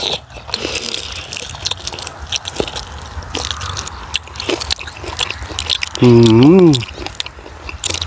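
Big grilled prawns are bitten and chewed up close, with wet crunching bites and smacking, brief scraping, and a short vocal sound near the end.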